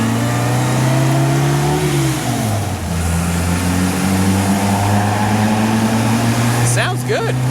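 A 1961 Austin-Healey Sprite's engine pulls up through the revs inside a tunnel, a steady, loud mid-pitched drone that dips briefly around a gear change, then rises again, with a faint click near the end.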